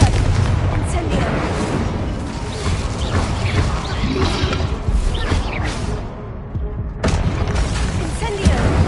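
Spell casting in the Hogwarts Legacy video game, including the Incendio fire spell, as a dense, loud barrage of booms and blasts that continues almost without pause.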